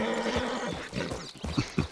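Horse in the video game Red Dead Redemption 2 giving a loud whinny, followed by a few hoof clops.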